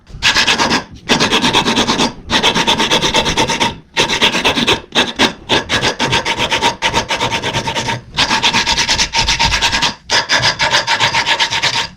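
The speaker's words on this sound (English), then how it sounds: "Still got a lot of sanding to do on it" A wooden musky crankbait lure is sanded by hand, close and loud: repeated rough rasping strokes in bursts separated by short pauses, steady and rhythmic with no voices.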